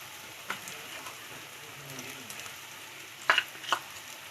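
Onions frying in a pan for egg pulusu, stirred with a spoon: a soft, steady sizzle with a few brief scraping clicks near the end, close and fairly quiet, with no talking.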